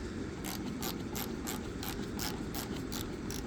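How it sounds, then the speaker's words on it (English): A ratchet drives a bolt back into the exterior door handle of a Hyundai Elantra, giving a steady run of quick, evenly spaced clicks over a constant background hum, close by and with no talking. "set the ratchet on the bottom right part, and then just start screwing it back in"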